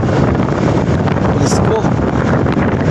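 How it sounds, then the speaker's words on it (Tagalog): Steady wind buffeting and rumbling across the microphone at a breezy outdoor stop during a ride, loud and continuous for the whole stretch with no other clear sound on top. "Mahangin. Lamig-lamig."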